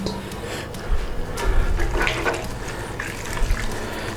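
Cooked noodles are tipped back into a pot of hot water in a kitchen for Hong Kong style soy sauce chicken noodles, giving a steady nearby watery wash and sloshing with a few louder splashes.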